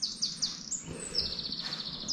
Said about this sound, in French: Il y a un oiseau qui est rentré, qui vient de ressortir.